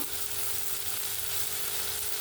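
Potato and eggplant cooking in a pan without water, a constant close sizzle with soft stirring texture underneath, no voices.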